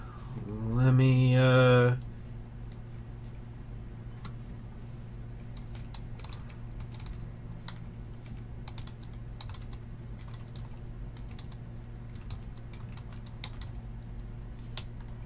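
Fingers type on a computer keyboard in a steady run of light, quick clicks over a constant low hum, following a brief spoken phrase at the start.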